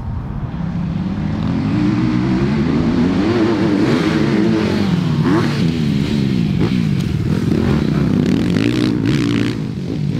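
A Suzuki RM 250 two-stroke motorcycle engine runs loud and close throughout, rising and falling as it accelerates, with some clattering from the ride.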